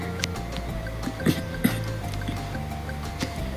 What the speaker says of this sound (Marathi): तर बघा आता इकडं पाणी चालू झाले